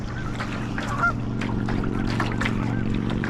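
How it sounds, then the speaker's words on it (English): Geese swimming on water honk repeatedly and fairly close, a chorus of nasal calls over a steady low background rumble. "God, geese are mean."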